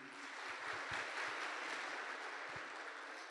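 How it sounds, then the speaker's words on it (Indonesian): Applause at a seminar honouring a guest, a soft, steady patter of clapping that sounds distant and quiet, with a few low thumps near the start and end. "Tepuk tangan untuk Bapak Ruli Wahyudi"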